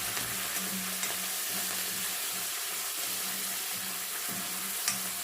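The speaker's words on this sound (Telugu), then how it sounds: "ఇంకొక 2 రెమ్మల కరివేపాకు వేసుకొని ఈ తాలింపు అంతా కూడా కొంచెం బాగా వేగేంత వరకు వేపుకోవాలి" Tempering with curry leaves frying in hot oil for a fenugreek-leaf dal: a steady close sizzle and crackle with soft spluttering and faint stirring, no voices.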